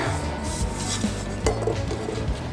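Pizza dough scraped from a mixing bowl and dough hook, a continuous close rasping and rubbing against the bowl with occasional soft knocks of the utensil, no voices.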